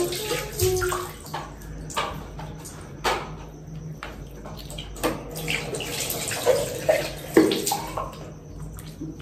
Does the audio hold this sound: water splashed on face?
yes